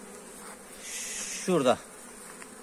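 Honey bees hum steadily at a pollen trap exit, with a louder rising buzz swelling briefly partway through; someone says a single word.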